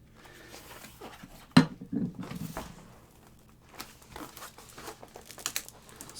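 Someone opens a packaged box holding a lightsaber, cutting and tearing the wrapping: a sharp rip, then scattered crinkling and rustling of plastic and cardboard, close and moderately loud with no speech.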